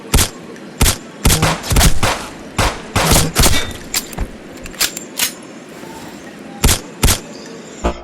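Gunfire in the shooter game Lone Wolf: sharp loud single shots and short bursts fired in an irregular pattern, with a brief mechanical reload rattle in the gaps.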